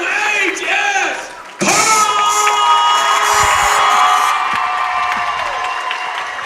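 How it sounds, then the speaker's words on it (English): A loud crowd at a high school basketball game between McAlester and Hugo cheers, whoops and shouts, with a sudden swell of noise after a brief lull that stays at full volume amid voices. "Coach Singleton getting the crowd into it."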